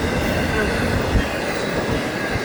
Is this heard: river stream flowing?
no